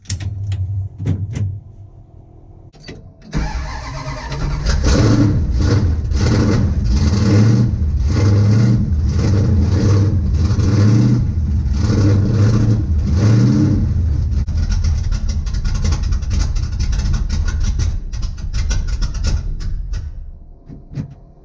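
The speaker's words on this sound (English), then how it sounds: "I heard you guys like cold start videos." A car engine cold-starts after a few seconds of quiet, catching with a loud burst and then revving repeatedly in rhythmic surges before easing back toward idle, heard close up with no talking.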